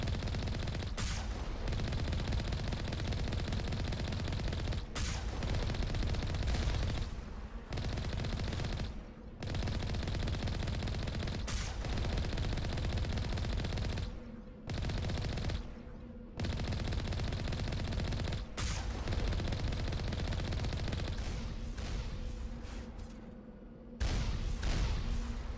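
Turrets firing in the video game Mass Effect, a loud, dense rattle of rapid gunfire that goes on almost without pause, broken by a few short gaps.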